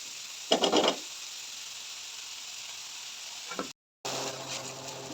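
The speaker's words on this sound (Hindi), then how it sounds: "देखिए प्याज हमारा जो है फ्राई होने लग गया है।" Onions fry in oil on a tawa for Peshawari mutton kaleji, a steady close sizzle with two brief louder bursts of stirring and a short cut to silence near the end; no talking.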